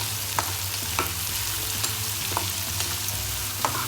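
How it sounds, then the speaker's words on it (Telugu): Boiled chickpeas with turmeric and salt are stirred in a sizzling pan for temple-style prasadam, with regular spoon scrapes roughly every half second over a steady, close frying hiss. "శనగలు వేసుకుందాం ఇప్పుడు కొద్దిగా పసుపు వేసుకొని కలుపుకుందాం"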